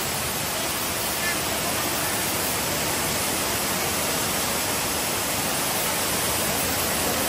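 Strong rushing water of the Shek Mun Kap stream on Lantau Island, a steady broadband roar heard close and loud without letting up.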